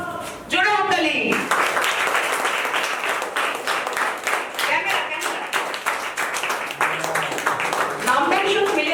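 Loud, dense clapping from an audience at an ashram clothing-distribution ceremony before a puja, rising sharply after a brief voice and running steadily for several seconds, with voices and chatter mixed in.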